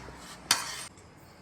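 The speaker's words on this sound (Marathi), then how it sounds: "सॉस टोमॅटो सॉस टाकला आपण आणि परत मिक्स करून घ्यायचं" A spoon stirs tomato sauce into paneer rice in a pan with one brief scraping, clinking swish, close and moderately loud, then quiet kitchen background.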